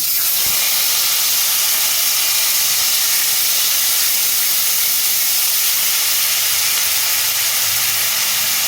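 Onion, ginger and garlic paste frying in a pan of hot oil with panch phoron and turmeric gives a loud, steady hiss and sizzle that runs unbroken throughout, close up and with no voices.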